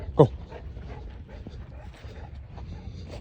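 A Bull Mastiff out on a four-mile walk gives one short, sharp yelp or whimper near the start, then only quiet outdoor rustle and faint footsteps follow.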